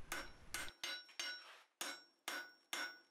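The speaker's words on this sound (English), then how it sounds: "I'm using the cross peen to draw down the material" A blacksmith draws down a hot bar on an anvil with the cross peen of a hammer, forging a Suffolk latch: seven sharp, ringing close blows at a steady rhythm, each decaying quickly, with no talking.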